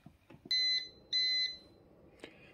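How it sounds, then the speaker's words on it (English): A Braun MultiServe KF9150BK coffee maker sounds its timer alert, two clear, fairly loud electronic beeps at an even pitch, each about a third of a second long, then a softer third chirp against quiet room tone. "So it does beep at you three beeps."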